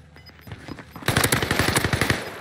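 Automatic rifle fire from an M13 in Call of Duty Warzone on Fortune's Keep, starting as scattered shots and then breaking into a loud, rapid, close burst.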